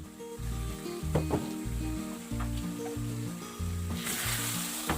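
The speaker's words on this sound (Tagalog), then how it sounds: "cover it and simmer for around 10 minutes" Banana blossom and sardines cooking in coconut milk with vinegar in a covered pan, giving a steady close sizzle and bubbling with a few light clinks.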